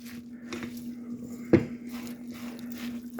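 Rice being mixed with liquid in a pot: soft, quiet stirring and wet shuffling with one sharper clink of a utensil against the pot midway over a steady low hum, with no talk.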